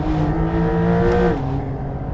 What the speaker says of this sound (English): I'll just floor it along this straight.